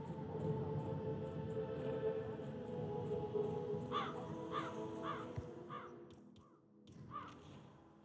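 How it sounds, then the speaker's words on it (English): A crow caws several times in quick succession inside the Hitman stealth game on PS5, the calls standing out over a dense ambient game soundscape of low hum and background noise. "Damn bird!"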